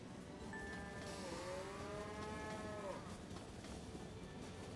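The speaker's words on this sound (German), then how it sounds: "Waren das gerade Kühe oder so?" In the city-building game Cities in Motion, cows low in a long, drawn-out moo that rises and falls over a couple of seconds. It sits against a steady background hum and stays fairly faint and distant.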